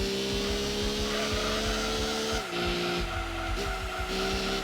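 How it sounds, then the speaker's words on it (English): Tires squealing through a drift in Gran Turismo 2, a racing video game, loud sustained whine with shifting pitch over a steady engine roar, close and continuous with brief dips as the car changes line. "Oh, pretty nice drift."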